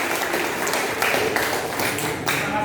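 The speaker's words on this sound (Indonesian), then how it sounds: "tepuk tangan buat kelompok" Classroom applause for a student group: a dense patter of many hands clapping at moderate level, with faint voices mixed in underneath.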